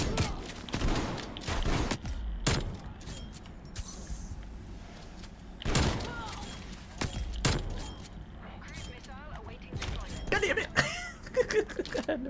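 Shotgun and pistol blasts in a custom-match video game, several sharp loud bangs spaced irregularly, with mechanical clicks and game effects between shots and a player talking over parts of it.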